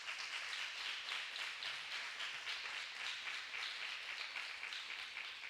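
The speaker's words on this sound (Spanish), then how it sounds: "Dele un aplauso al Señor por eso" A church congregation applauds during a sermon, a continuous, even wash of many hands clapping at moderate distance, fairly quiet, with no voices over it.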